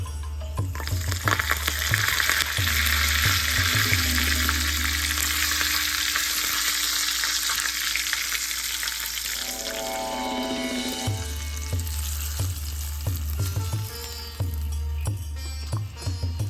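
Curry leaves drop into hot oil already seasoned with cumin and asafoetida for a tempering, giving a loud, steady sizzle and crackle close up that eases partway through and then picks back up with stirring.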